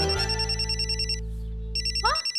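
A telephone rings with a loud electronic trill. A steady tone is interrupted by a brief gap, then the warbling ring resumes.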